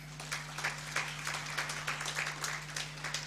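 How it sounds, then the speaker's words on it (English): Citizen assembly audience clapping for a speaker, fairly faint and uneven claps in loose bursts over a steady electrical hum, no talking. "Once more, let's clap for Harith."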